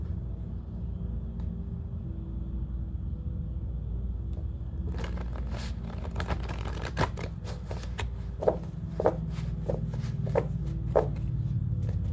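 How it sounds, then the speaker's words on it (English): A deck of playing cards is shuffled up close, opening with a quiet hum and then a burst of riffling followed by several crisp, rhythmic snaps and bridges. "Just shuffling up the cards."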